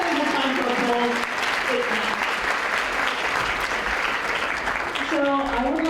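An audience at a 20th-anniversary dinner celebration applauds in a dense, sustained burst, with a voice speaking over the start and again as the clapping continues at the end.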